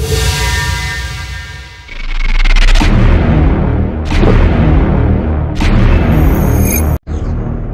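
A laser cannon fires at a safe: a loud sustained roaring blast with rumbling low bursts and sharp crackling pops, cut by a brief silence near the end.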